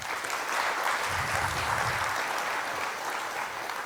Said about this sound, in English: Let's give that an applause.